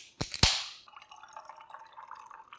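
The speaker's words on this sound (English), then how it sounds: "we're gonna add 1 full can of tonic water" Tonic water poured from a can for a keto Bloody Mary with tomato sauce: two sharp clicks, then a soft, steady fizzing crackle that continues quietly to the end.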